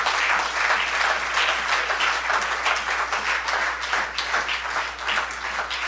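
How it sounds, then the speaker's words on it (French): A church congregation applauds in worship, a dense and steady roar of many hands clapping that fills the room throughout, with no voices standing out. "je voudrais qu'on acclame le Seigneur ici"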